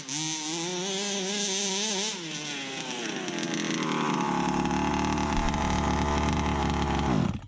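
A rebuilt 29cc small two-stroke engine runs loud and close on a cold, icy day. It holds a high buzzing rev, then drops to a lower, rougher steady note before cutting off abruptly at the end.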